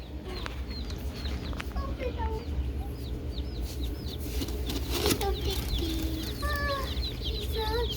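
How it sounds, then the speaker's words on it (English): Tiny newly arrived baby chicks peep in rapid, high chirps throughout, a busy overlapping chorus close by, with faint murmuring in the background. "Little baby chicks."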